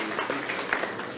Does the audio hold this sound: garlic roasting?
no